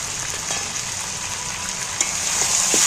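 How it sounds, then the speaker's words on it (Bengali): Green chillies and tomatoes frying in a pan for chicken curry, a steady close sizzle with occasional stirring clinks, growing slightly louder toward the end. "লঙ্কাগুলো দিয়ে আমি নাড়াচাড়া করতে রয়েছি"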